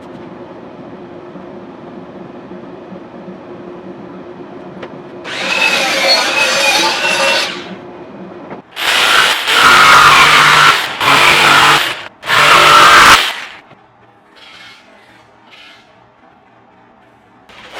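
A power saw cuts a traced template shape out of plywood for a skoolie bus bulkhead. It makes four loud bursts, the first a longer cut and the rest close together, with quiet shop background between them.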